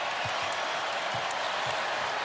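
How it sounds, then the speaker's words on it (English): A basketball arena crowd cheers and applauds as a continuous, dense wash of noise, with faint thuds scattered underneath and a commentator's voice over it. "here comes the crowd"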